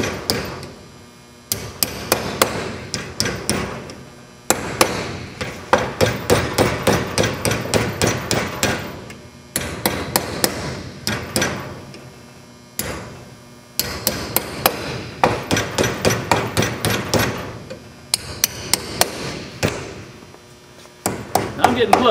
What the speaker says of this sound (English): I'm just going to keep working my way along, forcing my sheet metal